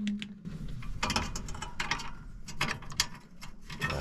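Small screwdriver turning a fastener on a broken furnace part that will not ignite: close, irregular clicking and ratcheting scrapes with metallic ticks over a steady low hum, no talk.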